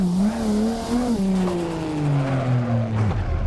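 A forklift in a VR video game drifts, its engine droning and tires squealing in a long, falling whine that holds for several seconds before cutting off.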